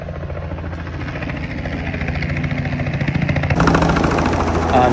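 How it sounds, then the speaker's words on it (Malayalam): A tour helicopter in Florida, returning from a sightseeing ride, makes a steady, loud rotor thumping and engine whine that grows closer and louder, with no talking over it. "ഞങ്ങൾക്ക് കയറേണ്ട ഹെലികോപ്റ്റർ തിരിച്ചു വന്നിരിക്കുകയാണ്."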